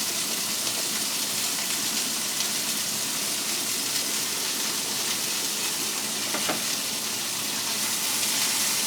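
Asparagus and carrots fry in a pan with a steady, dense sizzle that crackles evenly throughout, with no pauses or voices.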